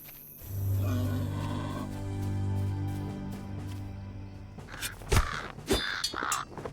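Crows cawing in the fantasy online game Lord of the Rings Online, a few harsh calls over a steady droning game ambience, followed by louder clustered bursts and clatter toward the end.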